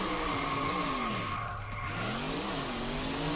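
A car in Hot Wheels: World's Best Driver skidding through a handbrake drift, loud continuous tire squeal over sweeping engine tones that dip and rise again, close and without talk.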